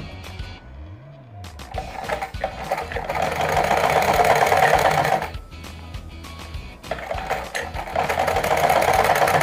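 A sewing machine stitches golden lace onto a fancy lehenga chunri, running in steady rattling bursts with a brief pause midway, close and clear with no talking.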